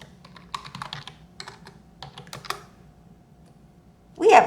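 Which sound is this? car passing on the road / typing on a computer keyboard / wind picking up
typing on a computer keyboard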